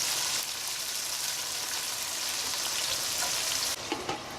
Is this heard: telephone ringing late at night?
no